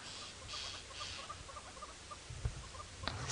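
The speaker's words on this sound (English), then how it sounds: "I hear the squirrels in the distance" Squirrels calling in the distance at sunrise during a safari drive: faint, repeated chirping bursts over soft outdoor ambience and light patter, with no talking.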